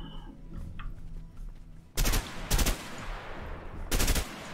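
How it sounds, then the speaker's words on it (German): Gunfire in the video game A Way Out: after a quiet start, three loud, close bursts of rapid shots ring out in quick succession, with no talking. "Kann ich, glaube ich, zielgerichteter schießen und hab trotzdem mehrere Schüsse."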